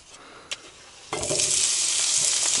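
Potatoes and onions dropped into hot fat in a pan outdoors by a river, a soft knock then a sudden loud, bright sizzle that keeps hissing steadily.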